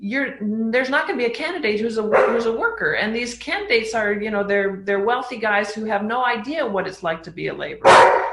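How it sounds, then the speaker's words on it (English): A dog barks in the background while someone talks continuously, with a louder bark bursting through near the end. "And so that's my dog barking."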